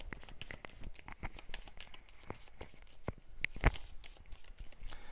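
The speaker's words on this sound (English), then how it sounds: "Those get shuffled into the deck." Cards from the Harry Potter: Hogwarts Battle board game being shuffled into a deck, a close, dry run of rapid crinkly riffles and taps with no talking.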